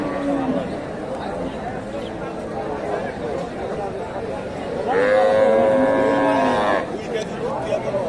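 Cows moo at a rural cattle market in Bogura selling local milking cows with calves, one long clear low moo standing out amid steady crowd chatter and nearby talking voices.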